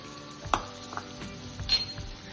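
Finely chopped carrot sautés with softened tomato in a pan, giving a soft, faint sizzle broken by a few light clinks and scrapes of a spoon against metal.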